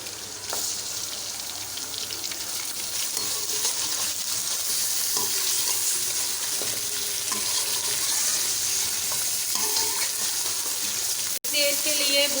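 Mutton sizzling and frying in a karahi with lightly fried ginger and garlic, a steady dense hiss of hot oil with occasional stirring scrapes, close and continuous for the full stretch before a brief cut near the end.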